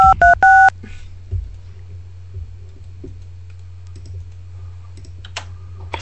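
Telephone keypad tones entering a phone number: a quick burst of three sharp, loud dual-tone beeps at the start, followed by faint clicks and low background hum.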